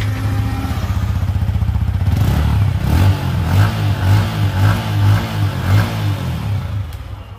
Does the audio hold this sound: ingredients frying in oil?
no